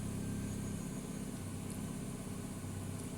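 A car engine idles steadily just after starting while warming up, a low constant hum with a faint background hiss and no talk.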